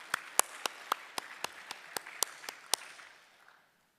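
A few scattered, distinct claps at a breakfast conference program ring out one by one near the listener, fading to silence.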